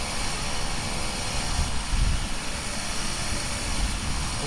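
A model airplane flies straight and level toward the runway, its engine drone steady and continuous, with a faint low rumble from wind across the microphone.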